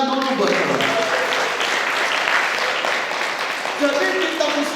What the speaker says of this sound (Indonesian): Berikan tepuk tangan dulu buat kita.